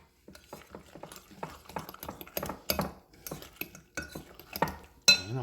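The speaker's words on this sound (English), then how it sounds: "we're going to add our nuts, our chopped walnuts, in with our eggs. And mix that up good." Chopped walnuts being stirred into eggs in a bowl, a run of close, irregular scraping and clicking strokes from the utensil against the dish, ending in a sharper clatter.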